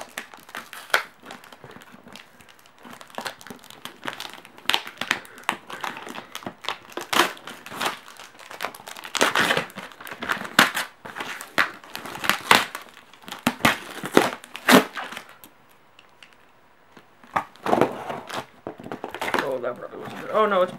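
A sealed parcel of retro games being opened, with bubble wrap and packaging crinkling and crushing in close, busy bursts throughout, while a voice is heard intermittently.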